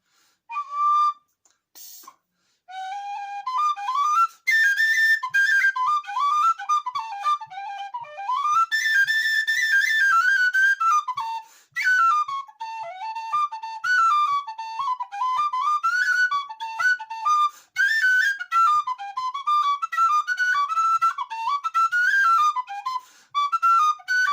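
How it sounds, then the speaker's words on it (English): A standard off-the-shelf tin whistle plays a lively, ornamented Irish melody with quick runs and trills, bright and close, heard alone for the full stretch. "The original tin whistle that you can buy"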